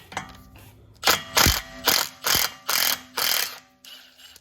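A ratchet with a T40 Torx bit works a brake caliper bolt loose on a 2014 Ford Explorer Sport, making seven or so loud, evenly spaced bursts of rapid clicking up close.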